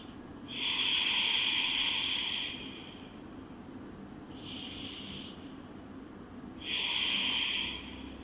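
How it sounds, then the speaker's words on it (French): Steady breathing during a yoga pose: long audible breaths with soft airy hiss, three in slow succession, close and fairly quiet with no talking. "2 respirations encore"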